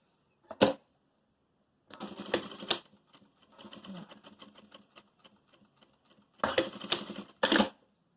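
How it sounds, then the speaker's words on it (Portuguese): A sewing machine stitches closed the open end of a fox-shaped crib pillow, running in two short bursts with a quiet mechanical stretch between them, followed by a sharp click. "E agora a gente vai passar uma costura bem na pontinha aqui, só onde tava aberto."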